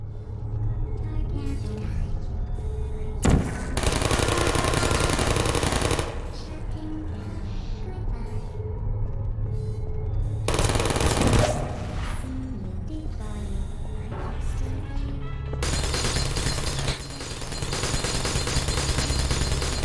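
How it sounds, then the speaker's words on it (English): Rapid bursts of video-game gunfire as characters shoot each other, loud dense volleys in several long stretches separated by shorter lulls of rumble and scattered shots. "Now they could shoot each other."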